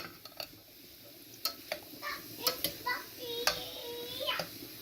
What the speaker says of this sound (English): So I'm going to let this fry for like 5 minutes